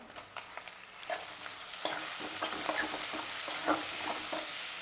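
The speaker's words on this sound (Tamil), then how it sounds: "வெங்காயம் நல்லா வதங்கட்டும்." Onions and tomatoes sizzle steadily in a hot pan with occasional stirring clicks and scrapes, a continuous hissing fry with no voices.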